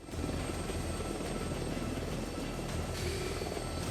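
A Marine One presidential transport helicopter's steady rotor and engine roar, loud and continuous throughout, with no voices.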